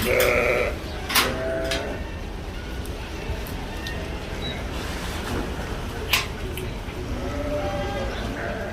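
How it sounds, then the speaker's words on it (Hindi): Barbari sheep bleat at a crowded livestock market in Makkah, with several loud nearby bleats at the start, then sporadic calls over a steady murmur of crowd noise. "भेड़ों के किस्म में से ये जो है बर्बरी से कहते हैं, बर्बरी।"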